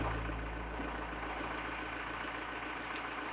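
A tractor engine idles with a low, steady rumble outdoors during a mountain snowstorm, constant and unbroken with no voices.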